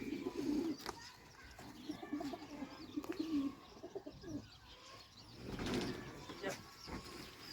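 Low, soft cooing of pigeons repeats through the clip, with faint chirps and rustling from a flock in a loft over a steady outdoor background.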